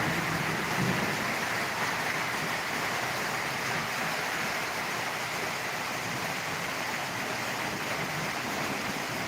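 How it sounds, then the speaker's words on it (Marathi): Steady rain falls at the Balumama temple, a constant, even hiss that fills the whole stretch without pause. "बाळवामा मंदिर बेलमाचे या ठिकाणी पाऊस पडत आहे"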